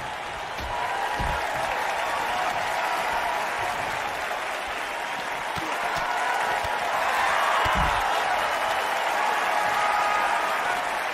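A capacity crowd at a wrestling event applauding and cheering in a continuous, dense roar of clapping that swells slightly toward the end, with a few heavy thuds breaking through.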